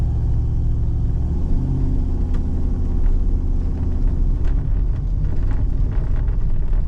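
A Grand Prix car cruises in overdrive, a steady low engine drone and road rumble from inside the cabin, constant and moderately loud with no talking.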